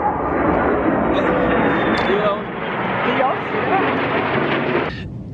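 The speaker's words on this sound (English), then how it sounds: "hold on that's a jet sorry about that guys" A jet aircraft passes overhead with a sustained, broad roar that fills the whole stretch, while a person talks over it.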